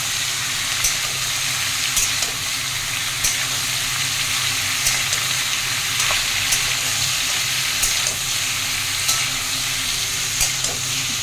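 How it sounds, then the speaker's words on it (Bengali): Papaya and potato cubes frying in oil with panch phoron and onion, a loud continuous sizzle with faint crackles and stirring scrapes and no talking. "পেঁপে এরকম কিউব কিউব করে আলু কেটে নিয়েছি, এরকম করে দিয়ে দেবো। দিয়ে এখন এটা ভাজবো।"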